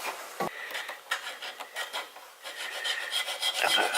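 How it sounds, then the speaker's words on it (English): Close, repeated rasping strokes of a small file slotting a bone guitar nut, in short uneven bursts, no voices. "I'm not sanding or filing much at this point."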